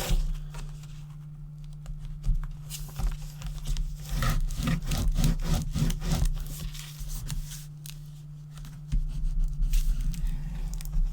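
A notebook holder's paper edge is burnished with repeated back-and-forth rubbing strokes, a close scratchy friction over a constant low hum, with no talking.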